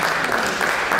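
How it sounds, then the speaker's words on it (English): Audience applause for Brother Cornelius Ricks at a community panel event, a dense, steady patter of clapping hands filling the brief moment. "Brother Cornelius Ricks, round of applause for him for the work that he's done in this"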